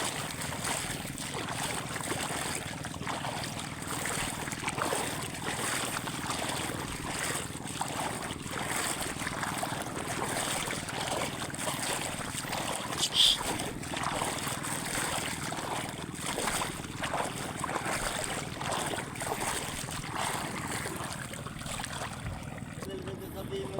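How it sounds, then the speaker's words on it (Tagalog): A boat motor drones steadily on open water, with rushing wind and wash, the constant noise lasting throughout. "Ayun ang bangka na dadalahin namin"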